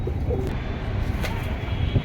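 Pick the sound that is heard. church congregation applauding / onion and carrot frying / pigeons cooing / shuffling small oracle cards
pigeons cooing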